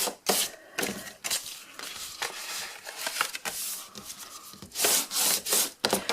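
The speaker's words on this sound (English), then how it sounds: "let's just fold all of our score lines. I'm just going to burnish gently." A folded paper score line is burnished gently by hand, giving close, dry rubbing strokes in uneven bursts with brief pauses between them.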